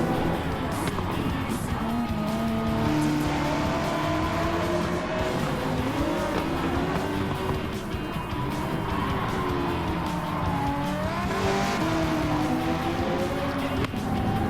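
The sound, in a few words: race car engine in Gran Turismo 7 video game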